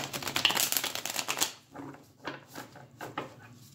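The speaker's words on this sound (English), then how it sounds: "going to do a quick shuffle here. And this deck, the card stock is really thick, which is nice, but also makes it a little bit difficult to shuffle" A thick-stock tarot deck shuffled by hand, a dense riffling flutter for about a second and a half followed by several softer separate card taps and slides, close and alone without talk.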